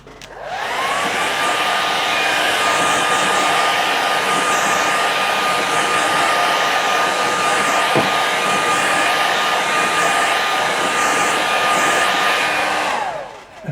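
A hair dryer blows steadily and loudly over a loose watercolour winter landscape painting, spinning up at the start and running evenly for about twelve seconds before switching off.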